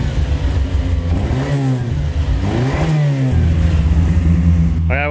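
A car engine that had sat unused for eight years runs loud and close with a slight miss, rising and falling through a couple of revs before settling back to a rough idle.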